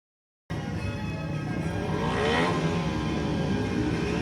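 Youth speedway motorcycles race between two clubs, a loud continuous engine roar that swells and revs as the bikes pass, heard from trackside with no talk.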